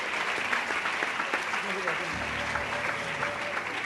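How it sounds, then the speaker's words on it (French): An audience at a talk show applauds the guest speakers, a steady wash of clapping from a crowd that carries through the whole moment, with voices and a low hum underneath. "Sous vos applaudissements."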